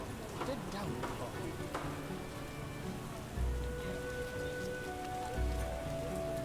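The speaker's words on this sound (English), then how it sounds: "A real downpour." Heavy rain in a video game, The Witcher (2007), patters and hisses steadily over a low background, with a couple of dull thumps; fairly quiet and unbroken.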